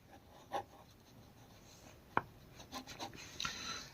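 A pen scratches on paper while a physics problem is being worked out, giving soft intermittent strokes and taps with a sharper tick midway, quiet and close with no speech.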